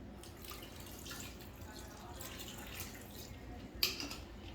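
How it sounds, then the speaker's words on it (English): Water poured into an Instant Pot holding salsa chicken, a faint quiet trickle that ends in a short splash near the end. "little bit of water to this so that we have enough"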